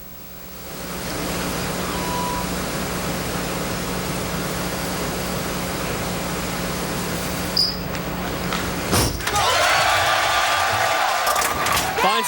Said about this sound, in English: Finds the pocket early, knocks them all down.